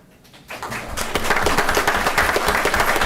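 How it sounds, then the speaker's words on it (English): A school board meeting audience applauds students: a quiet half-second gives way to a swelling round of clapping from many hands in the room, holding steady and fairly loud to the end. "So please give these guys a big round of applause."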